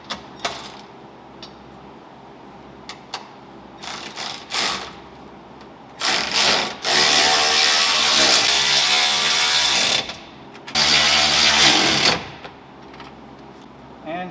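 Tools working on bolts of a Ram 1500 intercooler during a supercharger install: a fast, sustained mechanical whirring in two long bursts, with shorter clicks and clatter before, close and loud.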